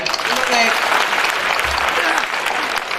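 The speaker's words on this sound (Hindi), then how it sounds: "तो प्लीज अंकित के लिए ताली बजाएं।" A school annual function audience claps steadily and fairly loudly for about three seconds, a dense even patter with a voice briefly audible underneath.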